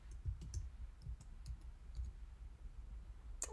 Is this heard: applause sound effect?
no